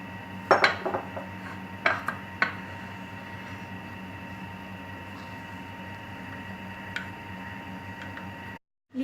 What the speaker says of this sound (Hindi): कॉर्नफ्लोर के अंदर मैं पानी डाल रही हूँ, इसको अच्छी तरह मिक्स कर रही हूँ।